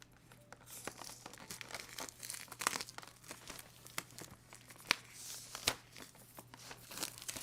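Plastic packaging of a Cinque keycap set crinkles and tears close up in a quiet room, with irregular crisp crackles and sharp snaps as it is opened.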